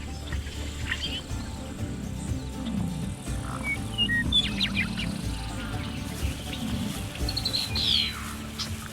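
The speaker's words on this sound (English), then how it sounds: "the bison calf can enjoy a chorus of love songs from the breeding birds" Spring birdsong in Yellowstone's bison grassland: scattered high chirps and short trills from breeding birds, fairly distant, over a steady hum of buzzing insects and flies, with no one talking.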